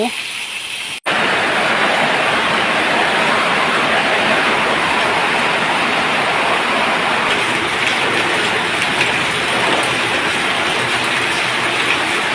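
Heavy rain pours down at a canal-side garden house, a steady, dense roar of water on surfaces that fills the scene after a brief quieter moment at the start and continues loud without letup.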